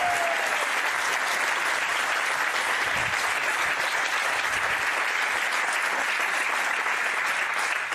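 A television studio audience breaks into sustained, dense applause that holds steady and loud from start to finish, with no voices rising above the clapping.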